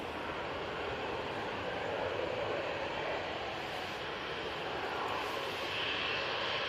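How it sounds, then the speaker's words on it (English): An Embraer airliner comes in to land at Manchester Airport, its engines a steady, broad roar held at an even level throughout, heard from a distance with no talking. "Oh, double Embraer coming down,"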